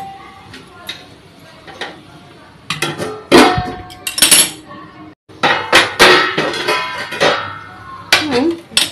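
Metal lid and pot clatter in a home kitchen while cooking sabudana khichdi: scattered clinks and knocks, some sharp and loud, arriving in irregular bursts with quiet gaps between them.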